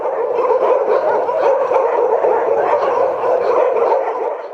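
Stray dogs barking in the streets of Thimphu, Bhutan, several animals yapping and yelping continuously in a loud, overlapping chorus at close range, with no speech.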